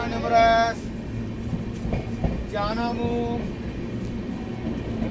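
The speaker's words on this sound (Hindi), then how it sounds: "तो हम लोग की ट्रेन जो है वो निकल रही है अभी नाजिरगंज रेलवे स्टेशन से।" A passenger train pulls out of a railway station, its carriages rumbling and clattering steadily, with brief squealing tones and a loud burst of noise near the start.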